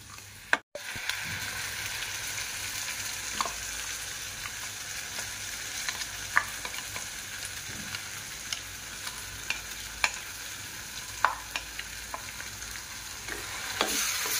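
Paneer butter masala gravy sizzles and fries steadily in a pan, with occasional sharp stirring scrapes and clinks throughout; no talking.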